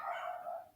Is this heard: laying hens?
no